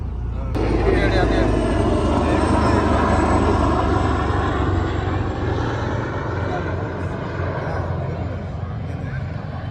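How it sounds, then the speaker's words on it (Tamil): A loud, steady engine roar drones continuously from start to finish, a low rumbling helicopter flying overhead with no break. "ஹெலிகாப்டர்"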